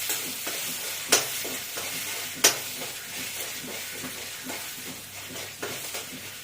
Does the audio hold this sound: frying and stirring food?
yes